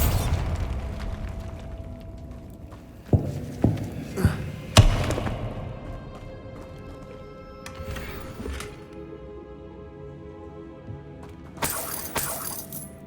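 Bombarda blasting spell from Hogwarts Legacy, heard as several sharp thuds and bursts in quick succession, with a later bright crackling blast, all set against a low ambient game soundscape.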